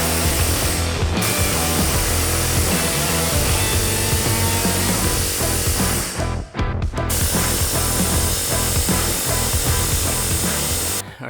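A hammer drill fitted with a notched bit pounds against a seized rear wheel bearing on a 2012 Subaru Forester, a loud, rapid, continuous rattling hammering with a couple of brief pauses.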